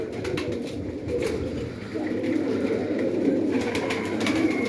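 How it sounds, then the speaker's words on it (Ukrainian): Several pigeons coo continuously in a dovecote, a low, overlapping murmur, with occasional soft rustles and light clicks nearby. "голуб'ятня гуде"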